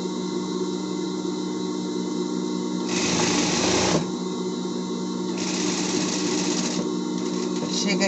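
A sewing machine hums steadily along a seam at close range, with two louder bursts of faster stitching partway through and a continuous motor whine underneath.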